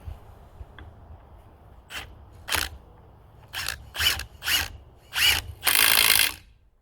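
A Milwaukee M18 FUEL 3/8-inch mid-torque cordless impact wrench reinstalls a lug nut in a series of short, sharp ratcheting bursts, getting louder and closer together, ending in one longer hammering run.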